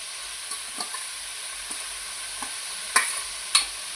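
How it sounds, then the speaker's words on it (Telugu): Grated onion is added to fried chicken and stirred, giving a soft continuous sizzle with a few sharp scrapes and clinks from the spoon, close but low in level. "ఇప్పుడు ఈ వేగిన చికెన్లో తురుముకున్న ఉల్లిపాయ వేసుకుందాం"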